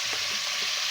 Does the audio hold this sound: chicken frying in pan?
yes